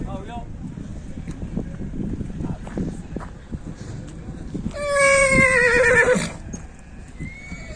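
At an outdoor horse sale in Tlemcen, Algeria, a horse lets out one loud, drawn-out whinny midway through. Voices talk and scattered thumps of movement can be heard before and after it.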